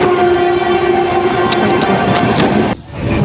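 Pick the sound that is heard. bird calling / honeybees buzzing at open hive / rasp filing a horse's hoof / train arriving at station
train arriving at station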